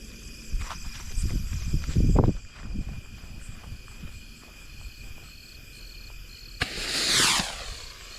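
A homemade sky shot firework rocket bursts low with a sharp crack followed by a hissing, crackling shower, over an outdoor night ambience of crickets and earlier footsteps.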